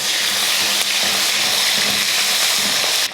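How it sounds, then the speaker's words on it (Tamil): Whole small onions and whole garlic cloves sauté in hot oil in a pan, a dense, even sizzle that carries on loudly and continuously with faint stirring clicks underneath. "இப்போ இதை நல்லா வதக்கிடலாம்."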